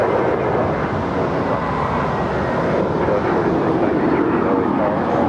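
A jet airliner landing on runway 25 left at Los Angeles airport roars with a steady, broad engine rumble that holds evenly throughout, with radio-style voices faintly present.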